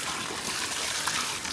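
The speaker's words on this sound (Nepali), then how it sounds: "यो चाहिँ तिर्चुली खोला रहेको छ।" The Tirchuli stream rushes along on the pilgrimage route to Gosaikunda in Nepal. Its water makes a steady, dense, close gushing roar that fills the whole moment, with no voices over it.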